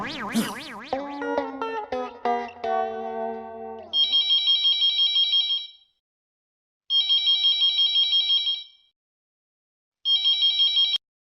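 An electronic telephone rings in repeated bursts, each a rapid warbling trill separated by silent gaps, heard three times after a brief musical flourish at the start.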